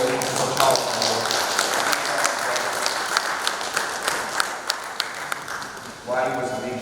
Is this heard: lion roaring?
no